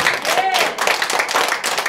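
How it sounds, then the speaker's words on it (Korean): A church congregation bursts into brief, dense clapping during a sermon, a broadband patter of many hands in a reverberant hall with voices carrying over it. "박수 주세요"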